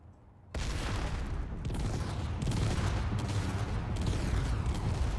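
A hydrogen block in the game Space Engineers explodes with a sudden loud blast that settles into a sustained, rumbling roar with crackling bursts.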